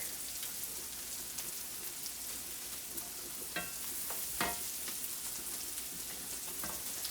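Garlic sizzling in a frying pan while cooking pan-seared salmon, a steady, fairly faint crackling fry throughout with a few sharper pops and stirring sounds.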